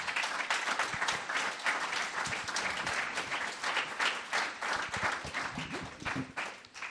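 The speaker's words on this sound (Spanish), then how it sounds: "Démosle un aplauso a aquellos que perseveran." Congregation applauding at a Sunday church service, dense sustained clapping from many hands filling the room, fairly close and steady throughout with no talk over it.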